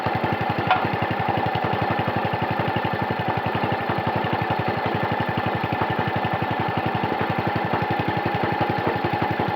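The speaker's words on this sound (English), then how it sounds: "Idling quite low" A small Tecumseh engine on a Qualcast lawn mower idles low and steady with a rapid, even chugging pulse throughout, close by.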